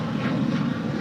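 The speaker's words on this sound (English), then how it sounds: "This is United Airlines 644 departing to Houston Intercontinental on a 737-900ER." A United Airlines Boeing 737-900ER jet taxis at LAX, its engines giving a steady, loud, broad roar with no breaks.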